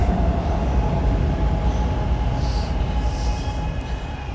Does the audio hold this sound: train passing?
yes